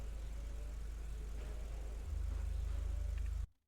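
A motorbike engine in a video game drones at a steady low pitch, shifting to a slightly deeper, fuller hum partway through before stopping abruptly, with no talk.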